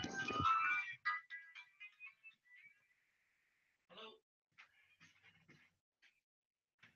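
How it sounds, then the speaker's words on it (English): An incoming phone call brings a ringtone of short melodic tones. A loud burst comes first, followed by quieter intermittent chirps separated by silent gaps. "I have to take this phone call."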